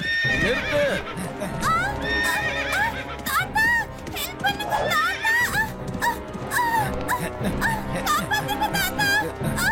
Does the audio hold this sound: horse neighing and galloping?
yes